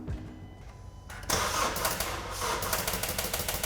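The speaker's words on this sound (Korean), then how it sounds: "시동 한번 걸어 주시겠어요?" A car engine cranks with a jump starter attached, trying to start on a weak, discharged battery in cold weather; a starter whirr rises suddenly after a quiet lead-in and then grinds on steadily without catching.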